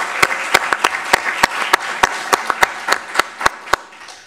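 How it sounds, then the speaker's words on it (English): Sparse, irregular hand claps from a small group at a student government meeting on a live stream, a dozen or so separate sharp claps scattered over a few seconds rather than a full ovation. "let's give them a round of applause."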